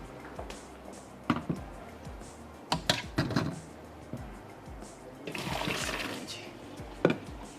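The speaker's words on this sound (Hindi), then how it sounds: "तो यहाँ से ले लेते हैं हम 1 अदद छन्नी जो कि वहाँ पर मौजूद है। तो मैं पास्ता निकाल लेती हूँ।" Boiled pasta being tipped into a colander in a home kitchen, with water sloshing and splashing, metallic clanks and bumps, then a longer rushing pour of draining water near the end.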